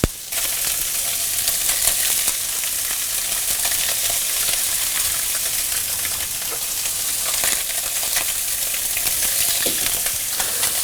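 Perch fillets from Lake Geneva sizzle steadily in a hot pan, a loud dense hiss filling the whole stretch with small crackles and pops, close up and without speech.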